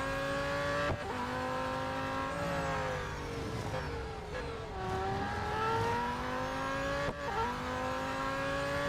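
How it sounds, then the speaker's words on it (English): The McLaren Solus GT race car engine in Real Racing 3 howls at high revs, with pitch dropping on downshifts and braking and climbing again under acceleration. The whine is steady, loud and unbroken, with no voices. "Yeah, you can brake really late with this car."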